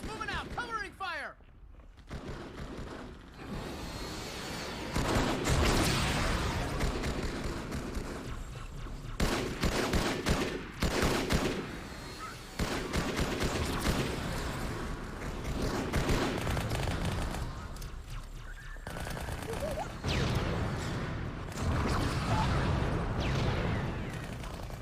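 Heavy gunfire in the Halo 2 video game, a dense, continuous fusillade of rapid shots and blasts that fills the whole passage, with soldier voices shouting over the battle.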